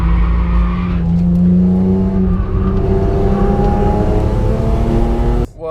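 A BMW M4 drives the Nordschleife in 2017, its engine note climbing steadily through the revs, loud and close, before cutting off abruptly near the end.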